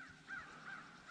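A crow caws twice in quick succession, clear and fairly close, alone against a quiet outdoor background near water during a fishing outing.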